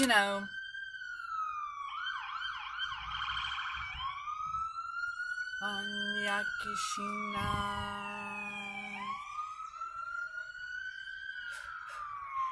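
A wailing emergency siren sweeps up and down continuously, loud and close, shifting between wail and yelp patterns as the vehicle passes.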